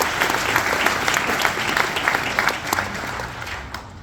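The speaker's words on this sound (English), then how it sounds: "A round of applause to yourselves." Dense, steady applause from a large crowd, many hands clapping together without pause, fading a little toward the end.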